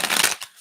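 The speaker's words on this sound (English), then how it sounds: "Let's give this a shuffle." Tarot cards being shuffled by hand, a dense papery riffle lasting about a third of a second, then a short softer flick and quiet, close and moderately loud.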